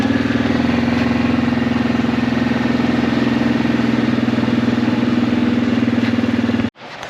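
The engine of a chassis-swapped International Loadstar truck runs close and loud with a steady, even throb that cuts off abruptly near the end.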